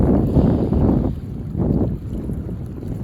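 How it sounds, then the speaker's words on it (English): A small Potensic Atom drone buzzing through strong wind on a windy day, its sound buried in heavy, gusting wind roar that surges and dips, loud and continuous with no voices. "You can hear that little guy ripping through the wind."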